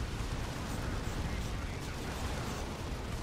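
Manticore rocket strike in Dawn of War 2 Retribution, a dense continuous roar of explosions and rumbling battle noise, steady and loud throughout with no clear gaps.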